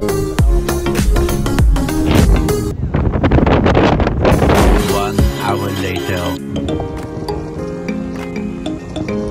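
Strong wind gusts buffet the microphone at a scenic lakeside viewpoint, rumbling loudly and steadily for the whole stretch with no clear voices.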